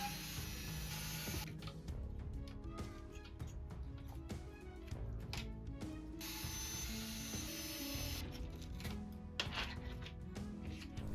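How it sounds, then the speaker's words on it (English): Close, dry ratcheting clicks and small mechanical rattles as screws are turned out to free the tweeters of a JBL PartyBox 110 speaker, in uneven bursts with pauses and no talk. "Now we will remove 3 screws to remove the tweeters."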